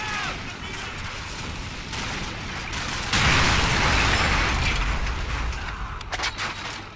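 Gunfire in Call of Duty 4: Modern Warfare, a dense continuous barrage of shots and rumbling booms that swells louder midway, with scattered sharp cracks near the end.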